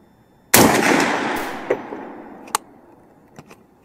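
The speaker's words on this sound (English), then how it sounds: "So I'm gonna shoot middle right." A single loud, close gunshot from a Bear Creek Arsenal .458 SOCOM rifle at an outdoor range, cracking sharply and then rolling into a long fading echo, with a few faint distant pops trailing after.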